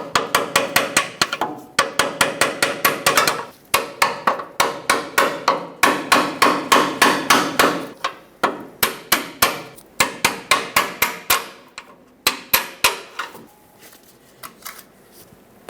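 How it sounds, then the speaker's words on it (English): Rapid, steady metallic hammer taps striking a pry bar to drive out a brake hose clip on a Ford E-350, dozens of sharp clanks in quick bursts with short pauses, close and loud. "I'm using a pry bar and a hammer trying to tap it out."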